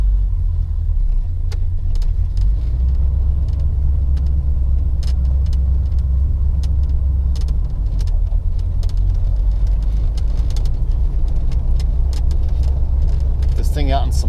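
A 1974 Corvette with the L82 engine drives along as a steady, loud low rumble that fills the whole stretch, with small rattles and clicks over it while someone talks.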